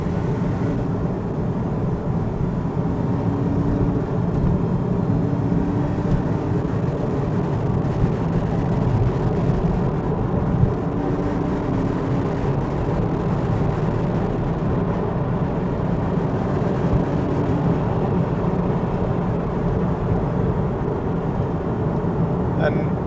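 A Porsche 997.1 with hydraulic steering cruises at roughly 60 mph on winding roads, its engine a steady, even drone with road and wind rumble, while someone talks over it.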